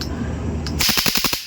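New Year firecrackers set off outside a home, a rapid string of sharp, loud cracks bursting close by for under a second, following a steady background hiss and rumble.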